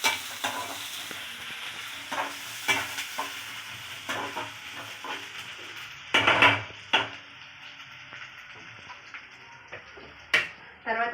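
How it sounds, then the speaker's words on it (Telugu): Ginger garlic paste frying in a pan while being stirred for a chicken curry: a continuous hiss of sizzling oil broken by repeated scrapes and knocks of the spoon against the pan, close and steady. "దీంట్లో కొంచెం అల్లం వెల్లుల్లి పేస్ట్ వేసుకున్నాం. బాగా కలుపుకోవాలి, పచ్చివాసన పోవాలన్నమాట."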